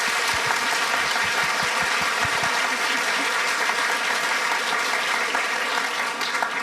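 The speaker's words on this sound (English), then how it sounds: "Let's give one more round of applause for Ruth Ware." A book-event audience applauds author Ruth Ware in a sustained, full round of clapping that fills the room evenly from start to finish.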